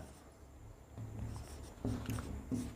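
A pen scratches across paper while a trigonometry problem is worked out, with soft, close strokes in short bursts that grow a little stronger toward the end.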